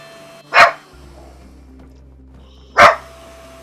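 A puppy in the farming game My Time at Sandrock gives two sharp, separate barks about two seconds apart, loud and close over a quiet background hum.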